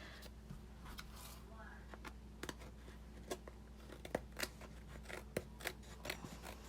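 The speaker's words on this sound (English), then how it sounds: "let me trim that little bit where I got it too long" Scissors snip through card stock in a series of quiet, crisp cuts, close and irregular in rhythm, with soft paper rustles in the background.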